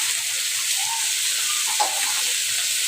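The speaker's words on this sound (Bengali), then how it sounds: "তো এখন এখানে আমি শাকটা দিয়ে দিচ্ছি" Red amaranth greens hit a hot pan beside fried rohu fish, giving a continuous, even sizzling hiss that holds steady with no voices over it.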